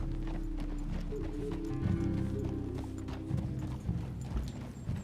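Horse hooves clip-clop steadily in Red Dead Redemption 2 as a rider travels at an easy pace, a close, continuous rhythmic plodding layered over low ambient rumble, with no talk.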